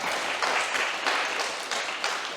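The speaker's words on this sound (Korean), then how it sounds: "우리 격려의 박수 한번 하겠습니다." A church congregation in Berlin claps in encouragement for a departing member, a moderate, slightly distant wash of applause that swells and dips in a few soft waves over a couple of seconds.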